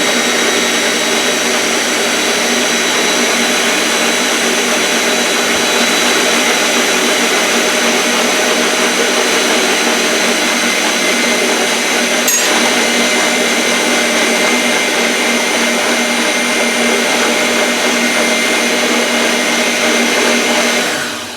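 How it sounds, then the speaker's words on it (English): A Ninja blender runs continuously at high speed, mixing sweet potato pie filling with a graham cracker crust planned; the loud, steady whirring roar fills the whole stretch with no talk over it. "I'm going to hit mix. The Ninja is loud, so be prepared"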